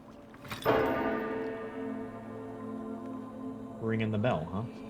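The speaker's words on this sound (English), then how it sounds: "Ringing the bell, huh?" A bell in the video game Myst IV: Revelation rings with one loud resonant strike that decays slowly, followed by a second fainter ring, with a voice speaking under it.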